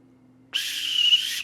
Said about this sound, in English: the end of a timeout is a long rolling whistle